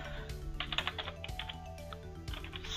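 Close, quiet computer keyboard typing sounds as a quick run of key clicks in short bursts, with brief pauses between groups of keystrokes.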